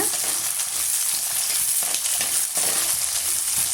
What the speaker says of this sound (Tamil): இது எல்லாம் சேர்த்து நல்லா வந்து வதக்கி எடுத்துக்கலாங்க